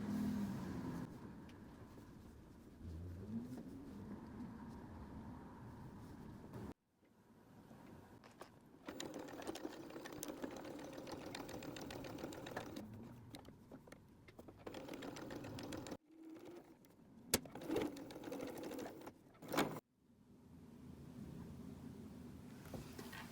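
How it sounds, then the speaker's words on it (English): Sewing machine stitching together the ears and legs of a purple plush llama, steady mechanical whirring in bursts with short pauses between seams, close and moderately loud. "Now it's time to sew our ears and our legs together."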